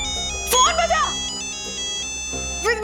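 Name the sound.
mobile phone ringtone ringing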